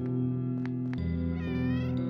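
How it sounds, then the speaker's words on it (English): A cat meows in the video game OneShot, a short call rising over steady game music that plays throughout. "Look at these cats."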